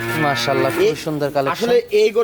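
A Jersey heifer moos repeatedly and close at a busy cattle market, with uneven lowing calls that blend with nearby voices.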